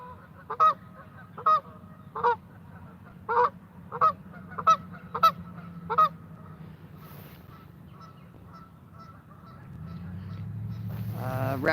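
A goose honks loudly and nearby at a carp fishing spot, giving about eight separate honks in an uneven series before stopping. Low ambient rumble and rising background noise follow.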